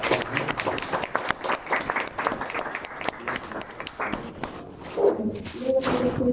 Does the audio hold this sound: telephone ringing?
no